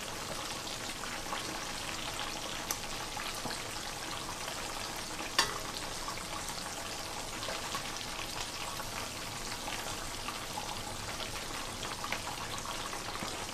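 Small whole smelts, lightly breaded baby fish, frying in hot oil with a steady, dense crackling sizzle that holds evenly throughout, with one brief sharper pop near the middle.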